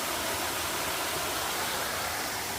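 A mountain stream along the Bartram Trail at Warwoman Dell, Georgia, rushes steadily below, a dense even hiss of flowing water at constant volume with no voices.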